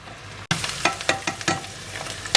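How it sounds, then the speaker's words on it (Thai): Stir-frying in a pan, starting the base for a spaghetti meat sauce made with red onion: a steady close sizzle broken by repeated scraping stirs, with no voices. "ผัดก่อน"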